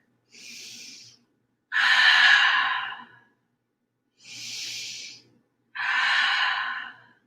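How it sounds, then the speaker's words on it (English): Four open-mouth exhales during yoga breathing, each a breathy airy rush about a second long, alternating softer and fuller, evenly spaced by quiet pauses. "Let's take 3 full rounds of open mouth exhales."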